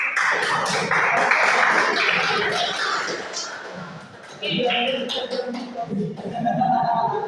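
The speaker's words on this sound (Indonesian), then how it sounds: "Lagi tepuk tangannya lagi" Classroom students clap and cheer for the winning group in a game, lively crowded clapping mixed with chatter and voices, dipping briefly before swelling again.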